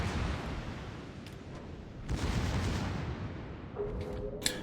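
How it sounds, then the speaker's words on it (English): Secondary guns on the German battleship Hannover fire in a World of Warships naval battle, a dense rumbling barrage of booms with a heavier blast near the two-second mark and a sharp crack near the end. "As the Hannover's secondaries start to go to town."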